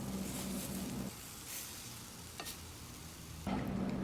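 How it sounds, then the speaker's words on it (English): Tofu sizzles and fries in a pan, a continuous close hiss with louder stretches at the start and end and a few brief clinks as pieces are tossed, no talk. "toss the tofu around so they're evenly coated in seasonings"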